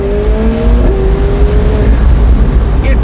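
A 2025 McLaren 750S supercar engine roars under heavy turbo-boosted acceleration at full throttle, its tone rising and holding steady with a deep rumble, loud and close throughout.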